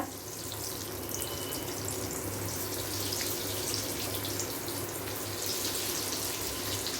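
Breaded chicken candy pieces frying in warm oil, Chennai Mannady shop style, a steady close sizzling crackle that stays even throughout with no talk.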